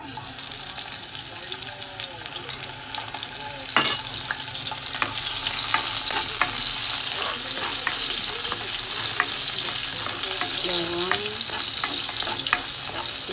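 Garlic drops into hot oil and sizzles loudly in a pan, a steady bright hiss that swells after a few seconds and holds, with faint clinks and stirring underneath.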